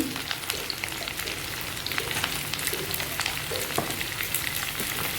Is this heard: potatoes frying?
yes